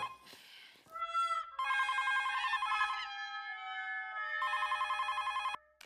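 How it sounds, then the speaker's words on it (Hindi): A telephone rings with an electronic warbling tone in two loud bursts separated by a brief pause, standing alone with no talk over it. "क्या फोन को देख क्या रहा है? जाके उठा ना"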